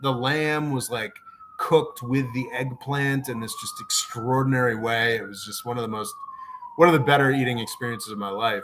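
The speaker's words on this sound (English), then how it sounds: "Sorry about the sirens." A wailing emergency siren rises and falls steadily in the background on a city street while a person talks continuously over it.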